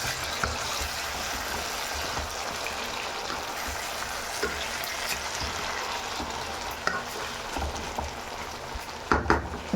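Chicken, kohlrabi and potatoes hiss and sizzle steadily as they fry in a pan, with a few clinks and scrapes of stirring near the end, no one talking.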